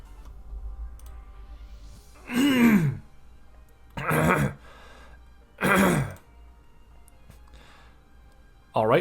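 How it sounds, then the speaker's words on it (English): Three rough throat clearings, close and fairly loud, spaced about two seconds apart with quiet pauses between them. "now that I've cleared my throat"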